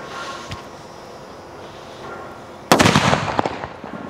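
A Diwali sky shot firecracker named Avatar bursts loudly and suddenly after a quiet lead-in, followed by a rapid crackling string of sharp pops that trail off.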